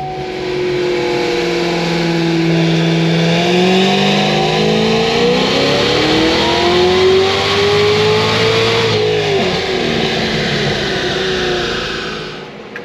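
A Cadillac CTS-V engine revs hard and steadily on a dyno, the tone climbing for several seconds, dipping briefly, then sustaining a loud, close roar before easing off near the end.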